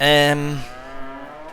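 Cattle on a farm in the video game Farming Simulator 22 give a single loud, close, drawn-out moo that fades into quiet farmyard ambience.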